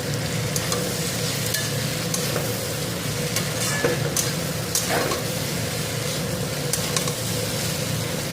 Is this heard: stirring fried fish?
yes